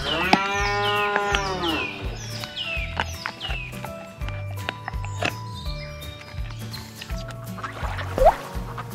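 Cow on a toy farm giving loud, drawn-out moos repeated several times, with horse sounds and clip-clop hooves mixed in the background.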